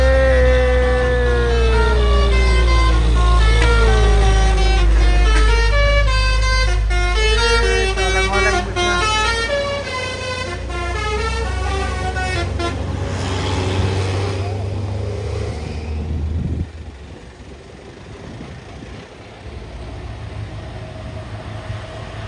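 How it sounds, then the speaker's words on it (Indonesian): A trailer truck overtakes on a busy road amid other cars and buses, with loud blaring horn tones sliding in pitch as heavy vehicles pass close, then easing into a lower rumble of traffic. "Trailer melaju, wush, menyalip ya"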